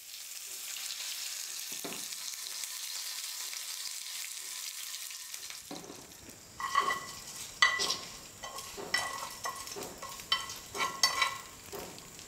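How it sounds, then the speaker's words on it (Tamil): Curry leaves crackle and sizzle in hot oil with mustard seeds and urad dal for a coconut chutney tempering, starting as a steady hiss and then breaking into loud, irregular popping bursts near the mic. "ஸ்டவ் ஆஃப் பண்ணிவிட்டு இது கூட இப்போ கருவேப்பிலை கொஞ்சம் சேர்த்துக்கிறேன்"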